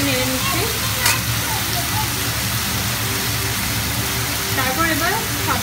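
Garlic sizzling in hot oil in a pan, a steady crackling fry with light stirring, while a person talks over it throughout.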